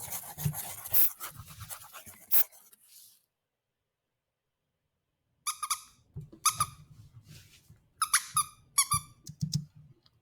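A squeaker sound effect in a Soundtrap project gives short, bright, high-pitched squeaks in quick bursts, first quieter, then a pause, then a clearer cluster of repeated squeaks.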